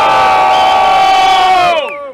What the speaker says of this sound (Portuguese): Só quem gostou do meu mano Johnny, faz barulho, Botafogo.